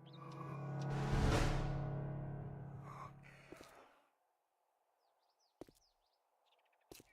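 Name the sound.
breathing sound in a video game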